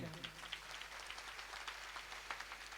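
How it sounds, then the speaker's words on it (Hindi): An audience at a youth meet in India claps steadily through an honouring ceremony, a faint, even patter of many hands with a few sharper claps standing out and some voices underneath. "जोरदार ताली बजती रहनी चाहिए"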